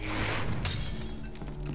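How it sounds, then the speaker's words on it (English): A glass jar shatters in Harry Potter and the Chamber of Secrets on the PS2, a loud, dense crash of breaking glass that fills the whole moment with bright, noisy debris. "Glass jar. Can we smash that?"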